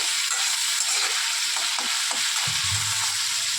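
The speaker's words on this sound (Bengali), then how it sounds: "একটু নেড়ে দেবো।" Prawn curry with bottle gourd leaves sizzling in a pan, a constant frying hiss with a few soft spatula scrapes and a low rumble near the end, close by and without speech.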